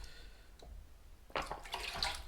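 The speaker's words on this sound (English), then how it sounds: "I could always lower it down and let the water run in" Water trickles into a Cnoc Vecto water pouch, quiet at first, then a brighter splashing, gurgling flow starts partway through and continues close by.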